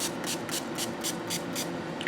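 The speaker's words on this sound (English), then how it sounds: "But then I go back to the spray bottle" Eight quick, even spritzes from a spray bottle misting leather during acrylic Resolene sealing, in a steady rhythm, close up and soft, with a faint hum underneath.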